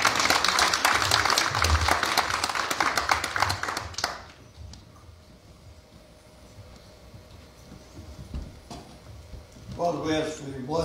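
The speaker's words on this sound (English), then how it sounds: "Can you applaud it?" A church congregation claps loudly and in a dense patter after a song, lasting about four seconds before it fades into quieter room sound and talking.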